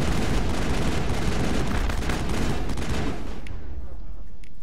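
Dense, continuous gunfire with chemical rounds in the Mass Effect video game, a loud sustained barrage of rapid shots that thins out toward the end, with a voice faintly mixed in.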